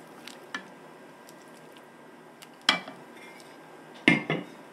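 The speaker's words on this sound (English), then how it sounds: "Just spoon into your dish." Vegan chili spooned into a serving dish, a few separate spoon clinks and soft wet scoops against the dish, close and quiet, with pauses between them.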